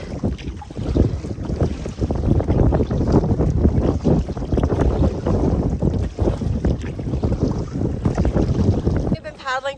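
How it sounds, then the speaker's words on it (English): Strong wind over a lake buffets the microphone in a loud, continuous roar, with water sloshing and lapping underneath throughout. "Yes, it's a little bit windy."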